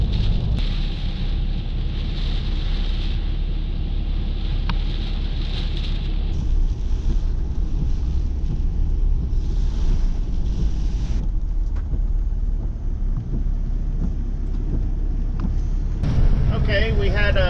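Strong wind from Hurricane Isaias buffeting the microphone, a constant low roaring rumble with gusting swells and rustle throughout, while a person talks underneath.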